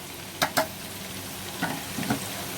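Chicken with biryani masala, turmeric and red chilli being stirred in a pot over light frying, a soft sizzle broken by a few sharp spoon scrapes, two close together early and more later.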